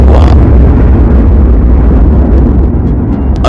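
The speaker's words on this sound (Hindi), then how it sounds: "बीच के इस भयंकर दबाव के कारण एक विशाल विस्फोट हुआ" A huge, deep explosion rumbles continuously and loudly throughout, a dense roaring blast with no voices, used as a sound effect for the birth of the sun.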